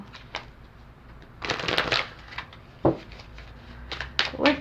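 Tarot cards being shuffled make close, crisp riffling and flapping bursts in irregular clusters with quieter pauses between them, and no one speaks.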